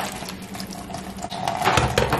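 Fresh papayas rinsed under a running tap, a loud, close, continuous rush of water splashing over the fruit in a sink.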